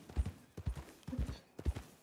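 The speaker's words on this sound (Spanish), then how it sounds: "Es un caballo." Horse hooves clip-clop in a role-play video game, four soft, evenly spaced hoofbeat pairs at low volume with no talk over them.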